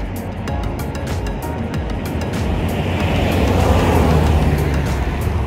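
A truck on a road rumbles past nearby as a steady, loud roar that swells gradually and peaks toward the end, heard outdoors with broad road and wind noise.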